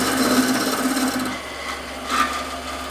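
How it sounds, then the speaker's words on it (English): A parting tool cuts into wood spinning on a lathe while a kitchen canister is turned, giving a short, close scraping rasp that fades after a second and then returns briefly. "I've made a cut with a parting tool in about a third of the diameter"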